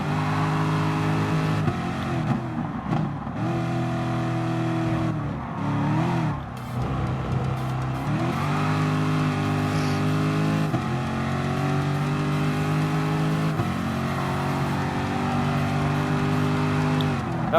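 Gr.3 race car engines in Gran Turismo Sport at a custom Le Mans circuit roar steadily and loudly, rising and falling with gear shifts and acceleration, with several cars droning together throughout.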